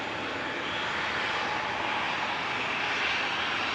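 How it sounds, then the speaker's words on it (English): An EasyJet Airbus A320 jet at Manchester Airport produces a steady, distant roar of engine noise, a smooth continuous wash with no breaks. "EasyJet 2171 to Amsterdam going next. This is EZUA and A320 Classic."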